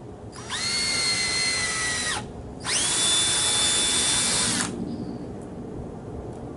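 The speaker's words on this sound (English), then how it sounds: "So pre-drill." Two bursts of a high-pitched power drill whirring as it pre-drills a hole, each about two seconds, separated by a short pause, close and loud.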